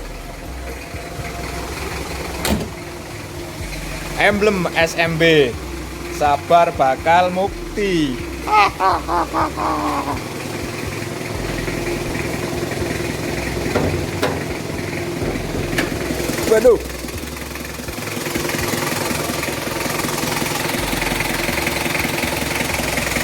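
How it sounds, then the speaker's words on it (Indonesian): A 2000 Mitsubishi Kuda GLS diesel engine idles steadily with the hood open, a continuous low rumble running throughout while someone talks over it in several bursts. "Kondisi mesin masih bagus seperti ini."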